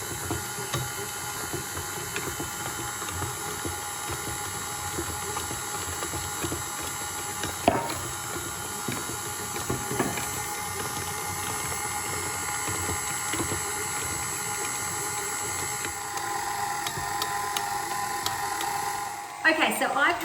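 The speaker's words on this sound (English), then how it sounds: "I'm going to turn the mixer down to speed 1, and then I'm going to knead it for" A tilt-head stand mixer on speed 1 kneads pizza dough with a steady, low motor whir and faint clunks, a constant drone that continues across the stretch.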